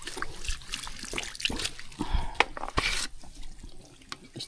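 Free-flowing water gushes strongly from a pipe, a rushing trickle and splatter with irregular surges and sharper splashes, fairly close, and a voice speaks briefly near the middle.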